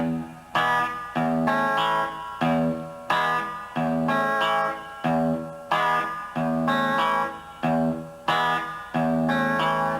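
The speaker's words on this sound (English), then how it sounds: "I'm going to show you how to do this little riff here. This is like without any echo or anything" A dry electric guitar riff with no echo or effects, picked on the sixth string in a repeating pattern of short, punchy chords and notes, played alone and close.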